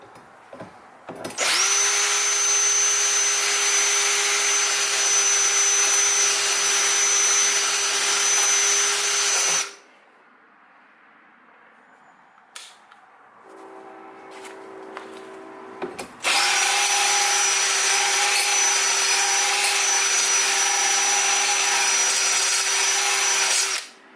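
A handheld sharpening tool grinds a new lawn mower blade in two long, loud, steady whirring runs, broken by a quieter stretch with faint clatter and a lower hum before the grinding starts again.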